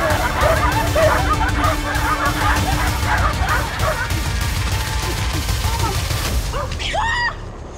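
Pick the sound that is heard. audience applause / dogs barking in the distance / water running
dogs barking in the distance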